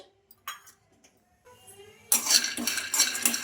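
Peanuts tipped into a kadai pan, landing with a sudden dense rattle and clatter that continues as a busy close scatter after a few quiet clinks and taps.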